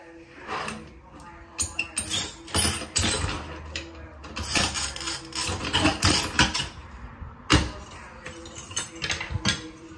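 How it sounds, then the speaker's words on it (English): A borrowed tile cutting machine slices through a tile, giving bursts of grinding, rasping noise that rise and fall in strength over about ten seconds, close by, with a faint whine between cuts. "And that is how you cut a tile."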